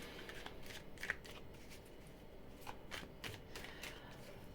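Rapid riffling and flicking of tarot cards shuffled close by, a steady papery patter with a few sharper snaps, no voices.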